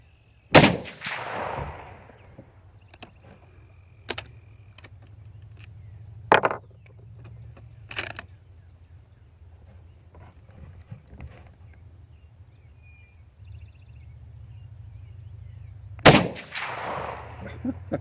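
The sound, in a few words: gunshots from a Remington 30 S rifle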